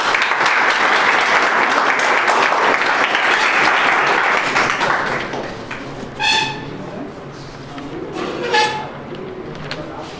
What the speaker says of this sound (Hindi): ताली बजाओ सब।